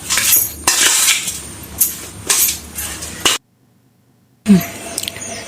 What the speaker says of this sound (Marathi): असं छान मिक्स करून घ्यायचं.